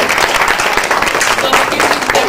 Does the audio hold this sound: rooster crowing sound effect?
no